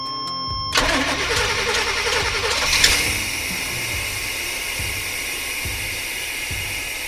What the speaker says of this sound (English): I suppose time to just turn the key and see if it fires up.